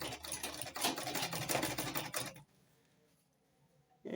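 A sewing machine stitches a flounce sleeve in a fast, close, rattling run for about two seconds, stops to near silence, then starts again briefly at the end.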